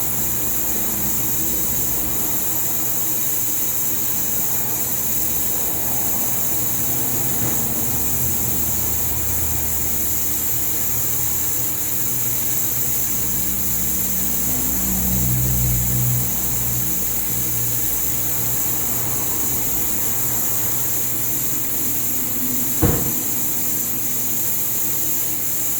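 A vehicle's engine runs at a steady idle while its steering wheel is turned back and forth to circulate power steering fluid through the steering gear, with a low continuous hum and a single sharp click near the end.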